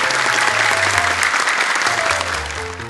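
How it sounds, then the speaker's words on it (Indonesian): Loud, sustained applause from the studio audience of an Indonesian Quran memorization TV competition, dense and continuous, with a faint musical tone underneath, easing slightly toward the end. "Boleh tepuk tangan untuk dua kore kita juga."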